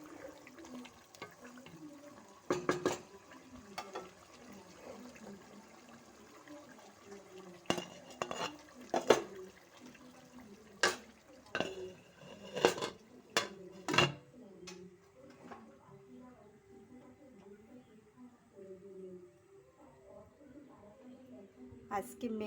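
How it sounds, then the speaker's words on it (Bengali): Pre-fried potatoes being stirred into a meat curry in a pan, with repeated clanks and scrapes of a utensil against the metal in uneven bursts, close by, while someone talks throughout. "আলু দিয়ে একটু নেড়ে চেড়ে আরও আরও একটু কষিয়ে নিব।"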